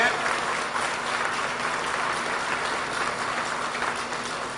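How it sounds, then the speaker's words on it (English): An audience of plant workers at a General Motors Rochester plant event applauds in a steady, dense wash of clapping that holds evenly from start to finish, with faint voices underneath. "So let's have a round of applause."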